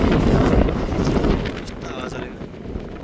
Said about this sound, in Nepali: हावा चलिरहेछ नि त एकदमै धेरै